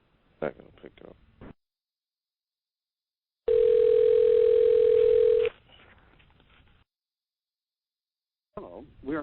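An unanswered telephone on a three-way call gives one steady two-second ring tone, with brief talk before and after it.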